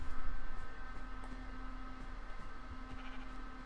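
Sheep bleating in the Minecraft video game, a few faint bleats over a steady noisy game backdrop with hum, no talk.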